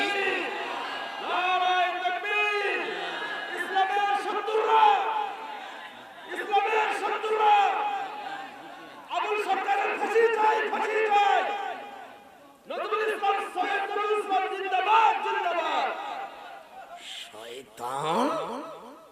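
A crowd at a Bangladeshi waz sermon in Gopalganj shouts the takbir response together in loud, rhythmic chanted phrases, repeated about five times with short gaps between them.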